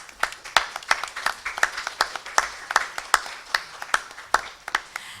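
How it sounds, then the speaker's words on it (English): Sparse clapping from a small audience at a community forum, heard as a rhythmic series of distinct, fairly close hand claps that continue without talk. "If you could give her a round of applause."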